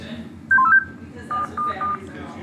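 A cell phone in a PC video game plays a quick burst of dialing tones, a couple of short beeps followed by three evenly spaced tones, over a low steady background hum.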